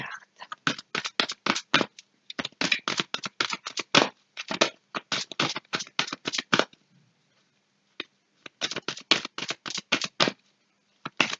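Tarot cards are riffled and shuffled by hand in quick repeated bursts of crisp flutters, close and clear, separated by brief pauses with no talking.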